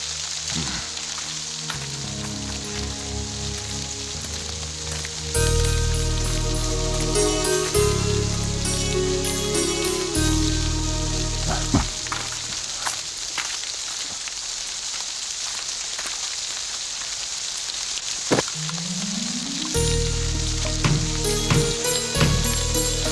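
Steady rain hissing in the background of a drama scene, a constant sizzling patter that runs under music and sound effects throughout.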